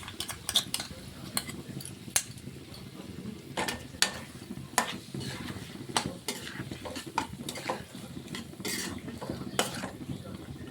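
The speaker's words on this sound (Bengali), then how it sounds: "দিয়ে আমরা 1 থেকে 2 মিনিটের মতন ভালো করে কষিয়ে নেব।" Mutton being cooked down for rogan josh with whisked yogurt and spices in a pan gives a steady close sizzle, broken by frequent sharp clinks and scrapes of a spatula stirring against the metal.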